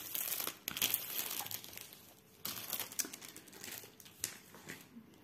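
Plastic packaging of a diamond painting kit crinkles and crumples as it is unwrapped from the back, a steady close rustle with brief tearing bursts and short pauses, no talking.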